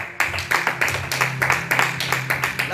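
A church congregation applauds during a French-language service, steady rhythmic group clapping in even beats, close and fairly loud, with a low hum underneath.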